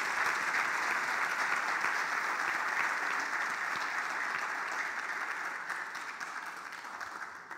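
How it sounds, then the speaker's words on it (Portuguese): Church congregation at an evening celebration service claps together in sustained, even applause that holds for several seconds before slowly tapering off. "Aplaudo o Senhor pela vida da irmã Terezinha."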